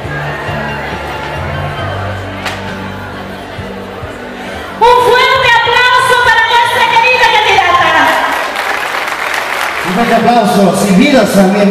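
Applause ripples through a crowd at the Sigchos 2014 queen pageant as a candidate receives her sash from the mayor, steady clapping under crowd murmur, joined midway by a louder voice or music.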